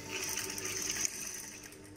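A sewing machine stitching a cap hood, a steady whirring hum held for about two seconds at moderate level, close by.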